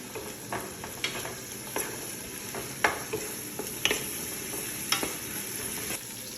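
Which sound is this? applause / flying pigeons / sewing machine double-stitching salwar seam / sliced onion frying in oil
sliced onion frying in oil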